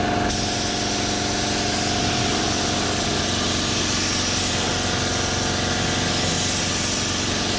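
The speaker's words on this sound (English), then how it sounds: "Start spraying way off here and then come down." A spray gun lays paint onto a car body in a DIY auto body job, giving a steady, loud, unbroken hiss of compressed air that runs the whole time with no pauses.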